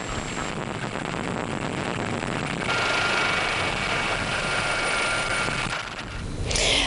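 A water-bombing firefighting helicopter of the civil protection roars steadily with broadband rotor and engine noise, loud and continuous throughout, swelling slightly toward the end.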